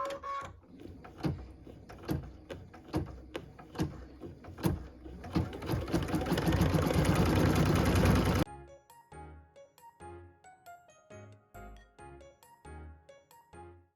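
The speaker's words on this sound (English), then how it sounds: "So we're going to go ahead and stitch machine step 10, which is the star center fill." An embroidery machine stitches a star-shaped center fill on a Christmas ornament, its needle tapping in quick, even rhythmic bursts that swell into a dense continuous run, then drop back to separate close clicks.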